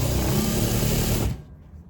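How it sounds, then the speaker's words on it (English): A sewing machine runs a steady, fast whirring edge stitch along fabric, loud and close, then stops abruptly, leaving a faint quiet tail. "I'm doing my edge stitch on the outer"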